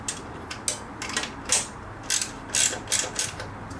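Bolts being tightened on a wrapped 21-inch front wheel of a 2022 motorcycle, a series of short ratcheting wrench clicks in quick bursts, close up, about eight bursts with no talk.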